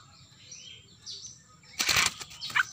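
A released wild bird flapping its wings as it takes off and flies away, a short burst of close wingbeats after a quiet stretch, followed by a faint chirp.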